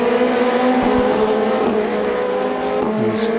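Formula Renault Eurocup race cars at Paul Ricard roar steadily at close range, with sustained high engine tones and shifting pitch as the cars drive past, a brief low thump near the start.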